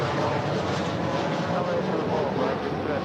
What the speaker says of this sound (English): here's Alaska Airlines flight number 5 coming in from Washington National, 737-800